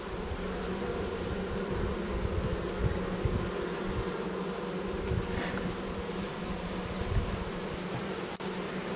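Honeybees hum in an opened hive during an inspection, a dense continuous buzzing close by that stays even throughout with no voices.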